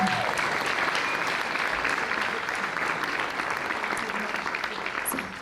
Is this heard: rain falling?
no